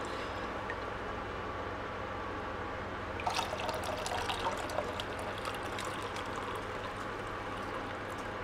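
Melted homemade buffalo ghee is poured slowly through a filter, a soft liquid trickle that starts partway through over a steady low background hum.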